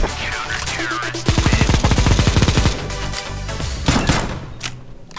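Rapid laser and homing-bullet fire in a video game, a dense machine-gun-like burst of repeated shots over a loud layered background of game effects and music, swelling and fading in waves.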